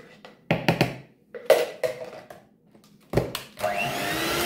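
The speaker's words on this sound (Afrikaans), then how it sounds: "En dan klits ons dit weer deur." Scattered knocks and clatters as a bowl of pot cake batter with melted margarine is readied, then an electric mixer whirs up near the end, a steady close buzzing drone.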